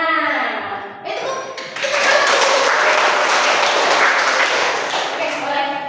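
A classroom group of students follows a girl leading a 'tepuk semangat' spirit clapping chant, dense hand claps filling the space with voices mixed in throughout.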